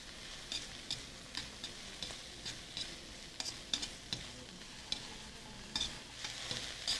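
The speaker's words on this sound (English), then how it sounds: "So I'm going to add the spears and stems" Asparagus spears and stems stir-frying with spring vegetables in a hot pan, a steady soft sizzle with repeated clattering stirs and scrapes at close range, no talking.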